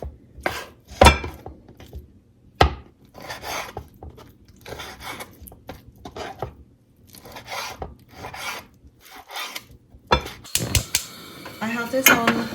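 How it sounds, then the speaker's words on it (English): Chicken being chopped into bite-size pieces on a board for a lemongrass and spice stir-fry, with irregular sharp knife strikes, some loud and close, in uneven bursts with quieter scraping between. "cut it into small bite sizes"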